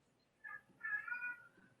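A pet cat meows faintly in a couple of short, drawn-out calls, distant and quiet against a low background hum.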